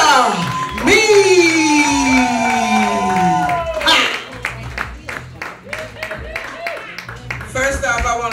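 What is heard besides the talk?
audience clapping and cheering for comedian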